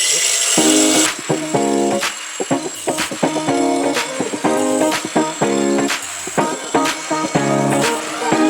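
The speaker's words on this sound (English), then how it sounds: "I'm just going to use my cordless grinder on that" A cordless angle grinder cutting automotive ignition coils whines in repeated short bursts, cutting on and off in a steady rhythm of cuts and pauses, loud and close.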